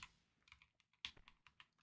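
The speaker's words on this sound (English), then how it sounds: "I was typing to someone." Someone types on a computer keyboard during a Roblox Volleyball game session. The keystrokes are sparse, irregular and light, with a couple of sharper taps near the start and end, and no voices are heard.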